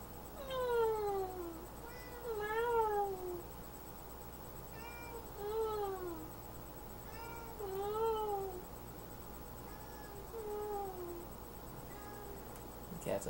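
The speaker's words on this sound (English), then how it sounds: "cat's upset" A tired, upset cat gives a series of about five drawn-out, wavering meows at a steady pace indoors, moderately close but not loud, with a faint steady hum underneath.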